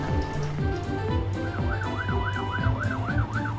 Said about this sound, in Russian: громкая сирена, которую слышат все машинки.